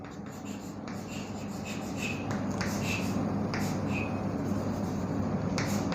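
Marker or chalk writing on a classroom board: faint scratchy strokes and short squeaks coming in intermittent bursts over a steady room hiss, with no voices.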